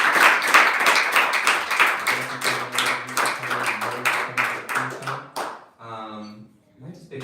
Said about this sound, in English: But let's go ahead and give him a round of applause.